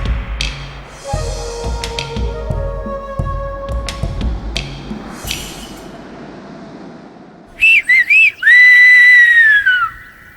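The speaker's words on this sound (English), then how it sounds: "The Gomeran whistle is in the island and is the history of the island." Silbo Gomero, the whistled language of La Gomera in the Canary Islands, sounds as a few loud, piercing whistled calls with rising and falling glides near the end, following quieter mixed background sound.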